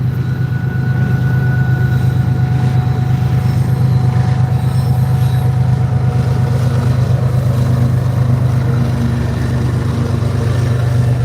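A freight train's distributed power unit locomotive rolls past close by, a loud continuous low engine drone with steady rumbling wheels and faint squealing tones, holding level throughout with no talking.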